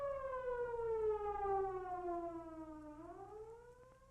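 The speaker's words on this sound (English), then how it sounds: "Always yield to emergency vehicles sounding their sirens or other signaling devices." A siren wails in a long slow falling tone, then starts to rise again, fairly faint and distant with low rumble underneath.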